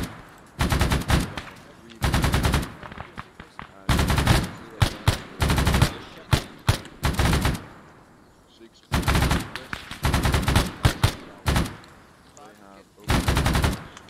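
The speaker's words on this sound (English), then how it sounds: "We're getting fired at." Bursts of automatic rifle and machine gun fire from the Arma 3 Vietnam War mod Unsung, loud close volleys in repeated clusters with short quiet gaps between them, and voices speaking at times.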